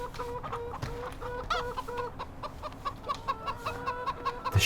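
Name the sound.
chickens clucking in Farming Simulator 2015 video game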